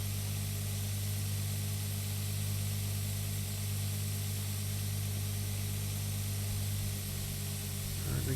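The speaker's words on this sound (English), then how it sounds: "Just gonna go ahead and leave the sprayer on." Steady hiss of an orchard sprayer in Pure Farming 2018, running continuously over a low engine drone with no change in level throughout.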